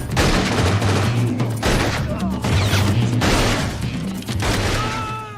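Gunfire from the 1995 action film Desperado, a loud, sustained fusillade of overlapping shots and booms filling the whole stretch, with brief dips between bursts and a dense, close cinematic mix.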